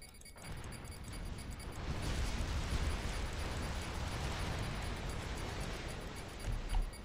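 Bombing explosions in the strategy game Supreme Commander 2, a sustained, dense rumbling roar of blasts that swells after a quiet start and holds steady, with a final thump near the end.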